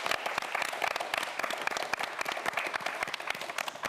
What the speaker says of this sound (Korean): 오늘 멋진 모습을 보여준 김주열 학생에게 큰 박수 부탁드립니다